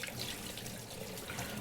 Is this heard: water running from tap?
yes